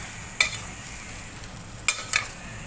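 Sem papdi beans with spices being stirred in a pan, a few sharp scraping strokes against a low sizzle, close and fairly quiet with gaps between strokes.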